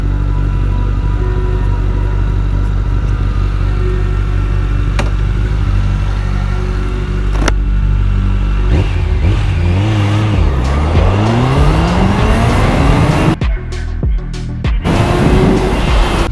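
A Honda CBR1100XX motorcycle pulls away hard from a standing start with its rear wheel briefly slipping, the engine note rising loudly through successive gear changes over steady wind rush.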